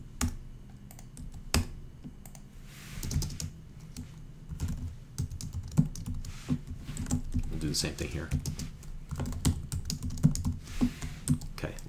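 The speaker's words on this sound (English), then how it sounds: "a lot of typing of code here" Rapid clatter of computer keyboard keys as code is typed, close and steady with irregular bursts, while someone talks over it.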